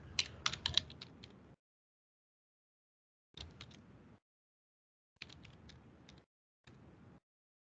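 An email address typed on a computer keyboard: four separate bursts of quick key clicks with silent pauses between them, close and fairly quiet, no voices.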